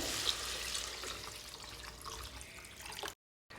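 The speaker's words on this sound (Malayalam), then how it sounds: "ഇതിലേക്ക് ഇനി നമുക്ക് വെള്ളം ഒഴിച്ചു കൊടുക്കാം" Water pours in a steady quiet stream, splashing softly, then stops abruptly.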